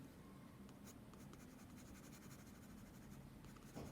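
Pencil shading on paper with the side of a soft graphite lead while drawing an owl head, a faint, steady scratchy rasp of back-and-forth strokes, close and quiet with no talking.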